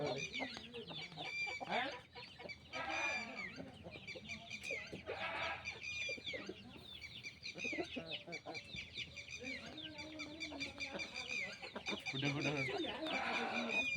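Aseel chickens on a farm, a yellow rooster and yellow hens, cluck and call repeatedly in overlapping bursts close by, with scattered short squawks throughout.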